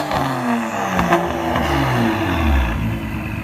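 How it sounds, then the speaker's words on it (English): A BMW car with the N55 engine revs close by, its engine note rising and falling in smooth sweeps over a few seconds. "I feel like the N55 is the best sounding BMW out there to this day."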